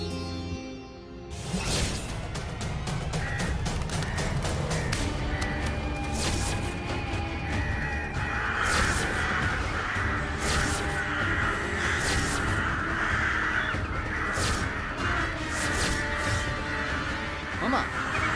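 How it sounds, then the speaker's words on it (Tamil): A flock of crows caws loudly and repeatedly, many harsh calls overlapping in a dense, continuous chorus outdoors. "மாமா என்னது மாமா இது இப்படி கத்துனுக்குது எல்லா காக்காவும்?"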